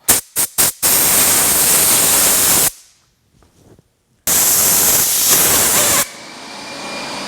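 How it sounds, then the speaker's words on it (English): Compressed air blasts out carburetor parts from a Ski-Doo 700 flatside carb: a few quick bursts, then a loud sustained hiss, a short pause, and another long, close blast that drops in level toward the end. "I'm just going to take these over to the air compressor and blow them out"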